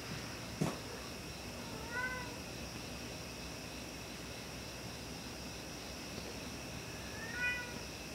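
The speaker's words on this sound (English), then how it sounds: "my cat really wants out here" A cat meows faintly in a quiet room, two short plaintive calls spaced several seconds apart over a steady hiss, wanting to be let outside.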